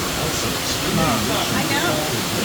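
Real water runs continuously on the Living With The Land theme park boat ride, a steady rushing hiss beneath people chatting nearby.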